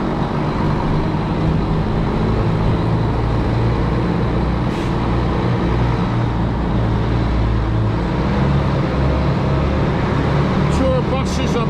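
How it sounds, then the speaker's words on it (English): Tour buses and other traffic pass on a coastal road between Sligo and Westport, a loud, steady engine rumble close by, with someone talking over it. "Tour buses are back."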